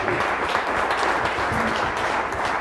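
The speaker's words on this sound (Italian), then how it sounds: "un applauso ovviamente anche a Paolo" Audience applause at a book presentation: a dense, steady round of clapping that fills the whole stretch at even loudness, with no voices over it.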